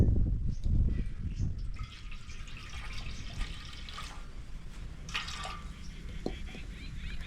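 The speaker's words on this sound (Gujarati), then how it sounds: "આમાં પાણી નાખી દઈએ આપણે" Water runs and splashes into a cooking pot, with a louder gush at the start, then a steady trickle and drips for several seconds.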